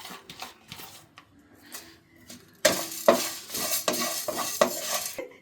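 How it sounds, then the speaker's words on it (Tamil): Dried red chillies and curry leaves dry roasting in a pan for Tirunelveli idi sambar spice powder, quiet scraping and rattling at first, then a louder burst of rustling, clattering stirring and faint crackle. "இப்போ நல்லா இதை வறுத்துக்கலாம் காஞ்ச மிளகா போட்டுக்கலாம் கொஞ்சம் கருவேப்பிலை"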